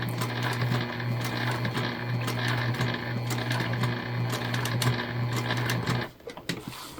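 A sewing machine runs a continuous stitching burst along a bag seam, close and steady with a fast mechanical hum, then stops abruptly near the end.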